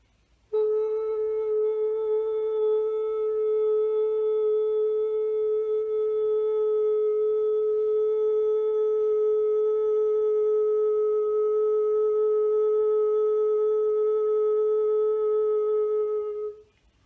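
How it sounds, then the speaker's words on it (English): Steady angelic sine-wave tone used for spiritual guidance meditation, a pure sustained pitch with faint harmonics that holds alone at even loudness for about sixteen seconds before cutting off. "bring through yet another angelic tone to assist you"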